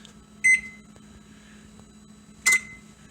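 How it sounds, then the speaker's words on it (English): An oven beeps twice as it is set to preheat to 350 degrees, two short bright electronic tones about two seconds apart over a low steady hum. "we'll preheat the oven to 350 degrees"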